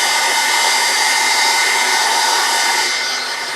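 A heat embossing gun blows steady and loud over a card of designer series paper, a continuous whooshing hiss of hot air that eases slightly toward the end, with no talking.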